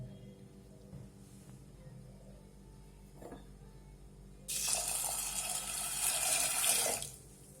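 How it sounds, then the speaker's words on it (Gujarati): Chana dal is rinsed by hand in a bowl under running water, with a steady splashing gush that starts abruptly after a quiet stretch and runs for a few seconds before stopping. "આ આપણે ત્રણ વખત સરસ હાથેથી ચોળી ચોળી અને પાણી કાઢી નાખશું"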